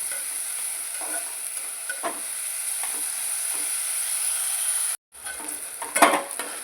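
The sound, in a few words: onions frying and being stirred in a pan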